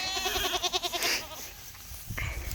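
Goats in a group of fifteen bleat several times in quick, wavering calls, loud and close, followed by quieter rustling and a short burst of movement noise.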